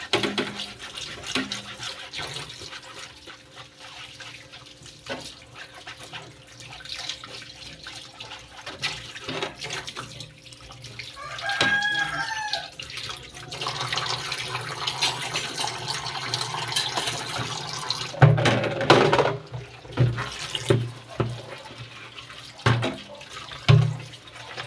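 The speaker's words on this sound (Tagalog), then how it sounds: "Magbukas ng tubig." A household tap runs water in a home, a steady hissing gush lasting many seconds with scattered clinks and knocks of dishes or containers, fairly close, with no talking.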